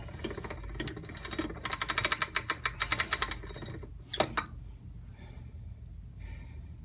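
A Regina music box mechanism is wound by hand, producing a rapid run of sharp, evenly spaced ratcheting clicks, then a few louder clacks and a quieter pause, all close and fairly soft.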